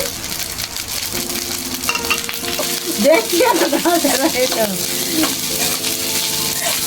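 Fried rice sizzles loudly in a pan while being stirred, with steady frying hiss and scraping stir strokes, close and continuous, without speech.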